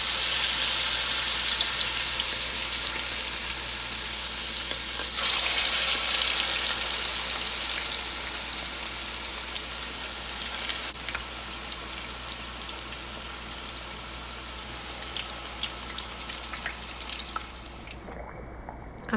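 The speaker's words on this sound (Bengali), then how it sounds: "এখন আমি চিকেনটা কুক করে নিচ্ছি।" Chicken cooks in a pan for biryani, a loud, close, continuous sizzle and crackle of frying that swells and eases slightly before a short drop near the end.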